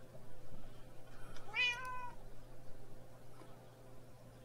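A single drawn-out cat meow from a real cat in a room where a Minecraft modpack is being played, rising and falling over about a second, moderately near, with a steady low hum and no talking.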